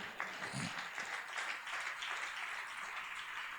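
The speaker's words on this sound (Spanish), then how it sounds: "Dele palmas si puede" A church congregation clapping during a Spanish-language sermon, a soft, distant wash of applause that holds steady for a few seconds.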